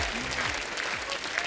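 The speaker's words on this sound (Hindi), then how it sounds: "सईद कादरी साहब के लिए जोरदार तालियां हो जाए" Studio audience of a Hindi comedy talk show bursts into sustained, even applause greeting a lyricist guest, steady clapping filling the whole moment without any voices.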